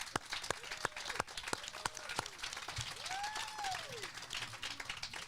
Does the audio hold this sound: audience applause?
yes